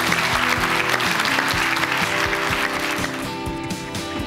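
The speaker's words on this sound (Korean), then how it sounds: "격려의 박수 부탁드리겠습니다." A TV quiz show audience applauds, a dense patter of many hands clapping close by, with a steady musical tone playing underneath that fades slightly toward the end.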